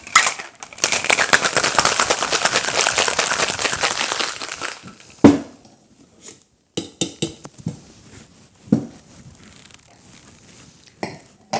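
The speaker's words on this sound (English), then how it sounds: "Plenty of ice, and give it a good vigorous shake." Ice rattles hard and fast inside a cocktail shaker for an espresso martini, made with vodka and dairy or a dairy substitute. The vigorous shaking runs about four seconds, then gives way to scattered clinks and taps.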